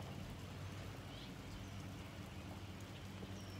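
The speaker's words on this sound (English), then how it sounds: "It's raining, see?" Steady rain falls in big drops, a constant soft hiss with low rumble underneath, faint and even throughout with no talking.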